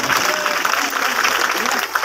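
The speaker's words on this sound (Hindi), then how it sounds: "एक बार जोरदार तालियां आदरणीय महंत जी को" A crowd of devotees at a temple gathering claps in a brief burst of applause, steady and fairly loud, with voices mixed faintly underneath.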